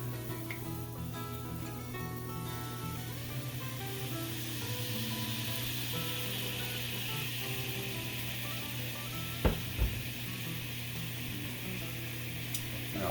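Garlic sizzling steadily in olive oil in a pan during a lamb chop and peach balsamic glaze cooking session, a continuous hiss under a low background hum, with a couple of brief clinks near the end.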